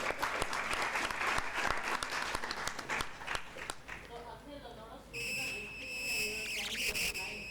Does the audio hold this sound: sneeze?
no